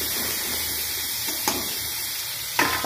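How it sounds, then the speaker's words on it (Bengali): Bitter gourd fries in oil in a pan at close range, an even, continuous sizzle with two brief clinks or sputters and no speech. "উস্তে ভাজা হচ্ছে কিন্তু এটা, এখন এটা কিন্তু উস্তে ভাজছি"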